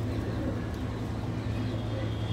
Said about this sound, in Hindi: अभी यहाँ पे थोड़ा डर गया ये कबूतर